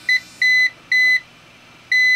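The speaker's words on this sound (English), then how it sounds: "That's my 15 mile an hour alarm on my Davis Vantage View." A Davis Vantage View weather station sounds its 15 mph wind alarm: four loud, clear electronic beeps in an uneven rhythm with short gaps, and no talking.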